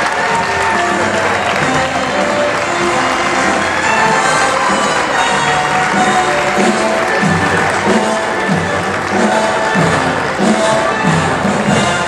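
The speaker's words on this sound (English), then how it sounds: "They love the applause." Audience at the National Dog Show in Oaks, Pennsylvania, gives a long burst of loud, steady applause with some cheering, sustained and close throughout.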